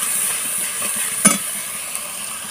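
Bengali-style spice paste with turmeric being stir-fried for chicken curry, a steady close sizzle with a single sharp scrape of the spoon midway, no talking.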